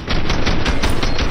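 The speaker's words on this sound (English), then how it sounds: "I have no idea why the gun just sounded like that" Slowed-down gunfire from a Fortnite replay: a dense, continuous run of low, smeared booming shots pulsing several times over about a second, loud and with no talking.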